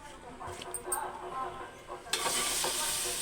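Oil sizzles in a cooking pan, a soft frying hiss with light stirring clatter that swells into a louder, steady sizzle partway through.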